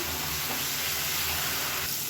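Masala sizzling and frying in oil in a pan, a continuous close crackling hiss while cooking a Tamil-style egg masala, with no talk.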